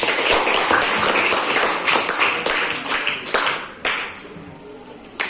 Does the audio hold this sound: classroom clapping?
yes